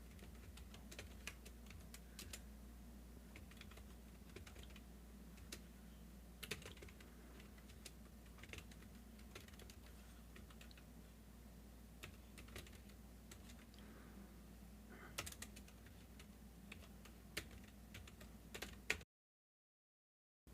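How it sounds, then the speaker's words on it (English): Steady typing on a computer keyboard, with rapid clicking keystrokes that continue with small pauses for about nineteen seconds, fairly quiet and alone before the sound cuts off. "Helps if I tap on the right keyboard when I'm searching something in Chrome on my Mac"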